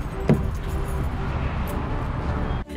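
Someone climbs into a Hemi-powered truck: a steady rumble of vehicle and road noise, a brief jangle of keys near the start, and a solid door thud just before the end.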